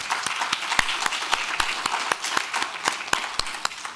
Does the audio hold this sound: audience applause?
yes